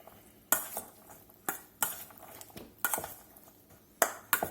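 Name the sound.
mixing lime juice and olive oil in a bowl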